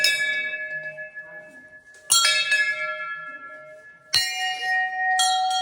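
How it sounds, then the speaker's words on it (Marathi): A large temple bell, the biggest of three at a Khandoba shrine, rings close and loud in two strikes, each leaving a long, bright, ringing hum that fades slowly, with a smaller higher bell joining near the end. "सगळ्यात मोठी घंटी."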